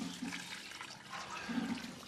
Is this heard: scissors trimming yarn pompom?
no